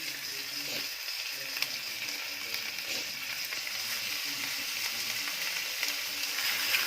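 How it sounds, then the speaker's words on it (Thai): Stuffed beef rolls fry in a pan, giving a faint, continuous sizzle with occasional soft crackles and small clicks, fairly distant. "เสร็จแล้วเราก็จะเอามาทอด"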